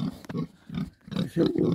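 A farm pig grunting close by, several short rough grunts in quick succession with no other sounds around.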